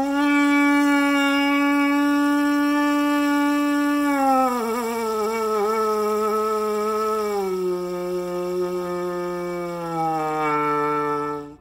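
A brass lead pipe, blown on its own, holds steady sustained notes and then slides smoothly downward to a low E, bending and wavering along the way, played close up and quietly with no talking.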